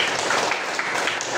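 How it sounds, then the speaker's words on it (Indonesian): A class of students applauds during a lesson on making non-alcoholic refreshing drinks, a brief dense patter of many hands clapping, steady and moderately loud, with no talk over it. "tepuk tangan."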